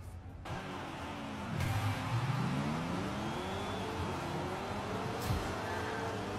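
A car engine revs and swoops through rising and falling pitch during a Fortnite race, with tire squeal and a brief skid, loud and steady throughout with no talking.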